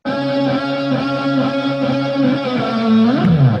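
An electric guitar through an octaver effect set to -12 semitones plays sustained notes an octave down, a thick, buzzy tone with a bending pitch slide near the end.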